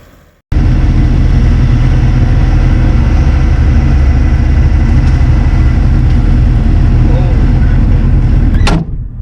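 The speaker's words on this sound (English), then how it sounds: "test the loader out and kind of get under that root ball and see if he could yank that out" A Kioti tractor loader works hard at close range with a steady, loud diesel drone, pulling a root ball out while clearing land for food plots in Southern Illinois, cutting off abruptly at the end.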